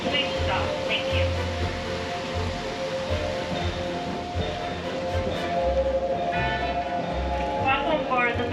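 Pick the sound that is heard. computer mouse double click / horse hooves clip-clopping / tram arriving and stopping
tram arriving and stopping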